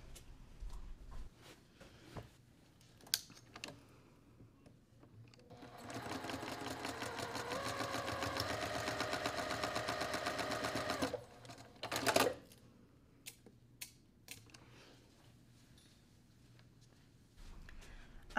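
A sewing machine stitches a quilt block in a steady, continuous run of about five seconds, close and fairly loud, with quieter handling noises and brief clicks before and after.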